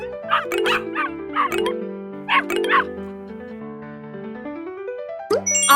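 A dog barks in a series of short, cartoon-like yips within a children's animal-learning sequence, layered over bright chiming music notes and ending with a louder ding.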